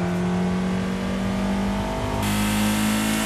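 A Mazda MX5 in Assetto Corsa on the Nordschleife revs hard, its mid-pitched engine note droning steadily then climbing and brightening near the end, loud and close with no talking.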